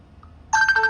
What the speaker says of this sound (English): these are the ringtones, you can check